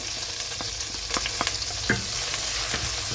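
Garlic sautés in oil in a pan for a tofu claypot dish, giving a dense, continuous close sizzle with occasional light taps and scrapes of stirring on top.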